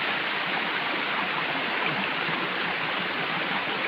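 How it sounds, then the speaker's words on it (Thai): Tad Ton waterfall pouring in a steady, dense rush of water, loud and continuous without pause, with no voices over it. "โอ้ น้ำตก น้ำตกกาดตุนพี่น้อง"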